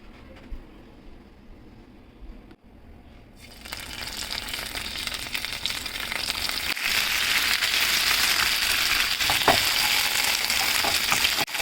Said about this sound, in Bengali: চিকেনের এটা ভাজার জন্য আমি কড়াইয়ে ঘি দিয়ে দিলাম